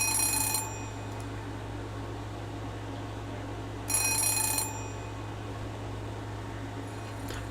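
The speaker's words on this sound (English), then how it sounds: "Oh, that's what's ringing. It's my timer." A timer rings indoors in two short electronic bursts several seconds apart, over a steady low hum of a fan or air conditioner.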